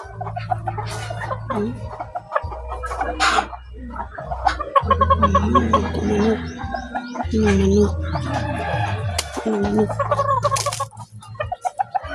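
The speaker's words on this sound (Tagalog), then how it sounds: "ang mga manok" Hens cluck nearby amid scattered bird calls, with low background hum and occasional voices.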